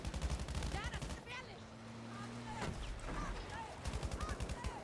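Rapid automatic gunfire bursts in the video game Battlefield V on the Narvik map, loud repeated rattling salvos at the start and end, with players talking over the game sounds.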